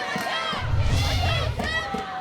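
A crowd cheers and shouts for a player at a high school all-star softball game, a dense mix of excited voices and yells at steady volume throughout.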